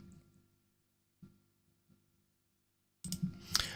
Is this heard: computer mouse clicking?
yes